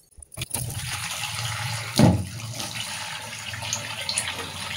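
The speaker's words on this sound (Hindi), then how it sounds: "पानी मारिबी" Tap water runs steadily into a sink while dishes are being washed, a continuous close splashing rush with a brief louder surge partway through.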